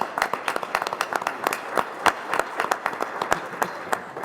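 Audience at a board of education meeting applauds student robotics teams, a sustained burst of crisp, irregular hand claps from many people, fairly close and lively, with no talking over it.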